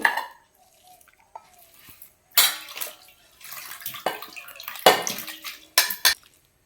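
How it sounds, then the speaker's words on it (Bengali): Rui fish kofta mixture with ginger and garlic paste is worked together in a bowl, giving intermittent clinks, scrapes and wet squelches in uneven bursts separated by quiet pauses, close and clear. "আদা বাটা দিয়ে দিচ্ছি এগুলো আমি ভালোভাবে সব মাখিয়ে নেব"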